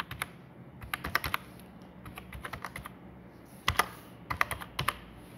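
A date being entered on a computer keyboard in SAP, with crisp, close keystrokes in quick bursts separated by brief pauses.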